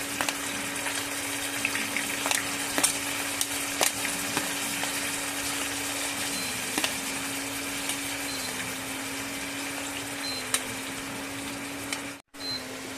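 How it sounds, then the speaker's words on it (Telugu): Onions fry in hot oil for a tomato curry, a steady, even sizzle that carries on unbroken, with a brief dropout near the end and no voices. "ఆనియన్స్ అయితే వేసుకొని ఫ్రై అయితే చేసుకోవాలండి"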